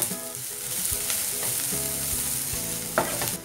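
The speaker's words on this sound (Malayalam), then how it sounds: "ഇനി ഒന്ന് മിക്സ് ചെയ്ത് കൊടുക്കാം." Onions frying in a pressure cooker with curry leaves, stirred with a spoon: a steady close sizzle runs throughout, broken by repeated scraping strokes and a few sharper clinks against the pot.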